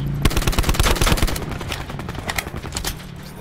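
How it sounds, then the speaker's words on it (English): Rapid automatic gunfire in an online shooter video game, dense and loud in the first half, then continuing in scattered bursts and single shots at lower volume. "We're getting shot at, pretty sure."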